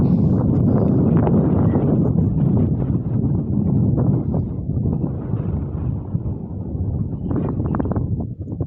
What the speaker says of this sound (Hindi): यहाँ बहुत ठंडी हवा चल रही है